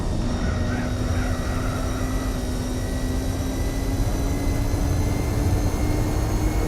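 A car engine in the racing game Gran Turismo 4 holds a steady, droning whine at constant pitch throughout, loud and unbroken, with a voice occasionally talking over it.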